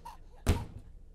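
In the video game The Baby in Yellow, a baby gets shot out of a door, and the door slams with a single loud, heavy thump midway through before a brief decay into quiet.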